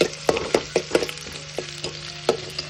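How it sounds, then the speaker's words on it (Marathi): Chopped onion sautéing in hot oil: a steady sizzle under repeated scraping and stirring strokes from a spatula, coming in an uneven rhythm close up, with no talk. "बघा कांदा घेत आहे, कांदा छानपैकी परतवून घ्यायचा. तेल छानपैकी तापलेलं आहे"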